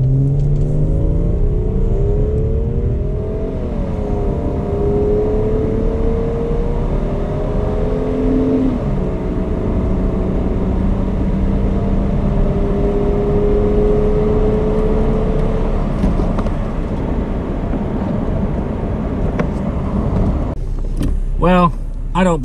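A Subaru in SI-Drive I mode, left in regular automatic drive, accelerates at full throttle, its engine note climbing steadily and dropping at each gear change, loud and close inside the cabin.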